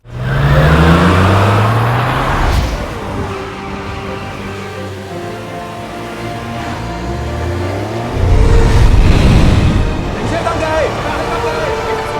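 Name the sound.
car engine driving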